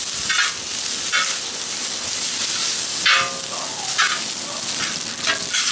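Spaghetti noodles fry in olive oil in a discada cowboy wok, with a steady loud sizzle broken by bursts of scraping and stirring from a utensil against the metal.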